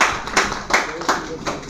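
Classroom applause for a winning group, a few rhythmic hand claps spaced evenly and fairly close, with voices in the room behind them.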